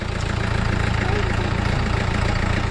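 A car engine idles on a Munnar trip with a loud, steady, close rumble and a pulsing low throb for the whole stretch, with no clear start or stop.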